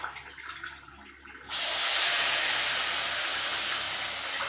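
Milk poured into a hot pan of sooji erupts into a loud, steady, close sizzle and hiss that starts abruptly and keeps going without a break.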